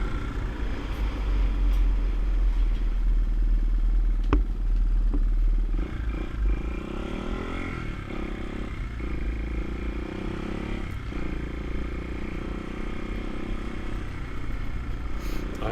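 A restored Honda XR200R dirt bike on rallycross tyres being ridden, its single-cylinder engine a steady close rumble with shifting revs, wind buffeting and occasional clatter over the terrain.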